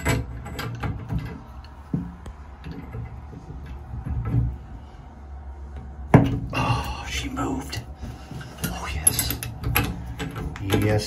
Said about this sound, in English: Let's get the wrenches on and see if we can get them stems out.